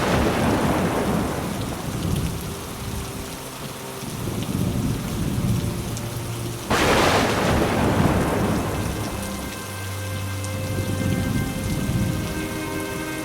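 Heavy rain pours steadily on surfaces while thunder rumbles, with one sharp, loud crack of thunder midway followed by rolling rumbles beneath the continuous downpour; no voices.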